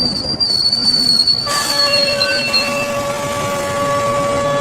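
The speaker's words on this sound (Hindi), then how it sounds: "तभी अचानक ट्रेन के आने की आवाज सुनाई देने लगी।" A train pulls into a station with a rumbling rolling roar. A shrill whistle-like tone starts partway through and high squealing wheel tones sustain over the steady rail noise.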